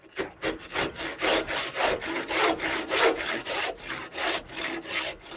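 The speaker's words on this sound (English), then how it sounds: "where's my handsaw? So now we're gonna cut this off" A handsaw cuts through a wooden shillelagh stick in a steady, rhythmic series of close, loud rasping strokes, roughly two per second, with no talking.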